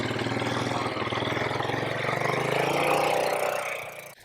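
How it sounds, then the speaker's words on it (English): A four-wheeler ATV engine runs with a steady, rough low rumble and pulsing idle, swells slightly as it pulls off on a snowy farm, then drops away quickly at the end. "the boys just left on the four-wheeler"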